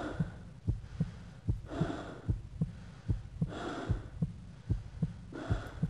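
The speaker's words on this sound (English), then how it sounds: "This heartbeat and the breathing's pretty loud to me in my headphones." A loud, steady heartbeat from the horror video game Afraid of Monsters, thumping at a regular pace about twice per second, layered with heavy rhythmic breathing close up and no talk.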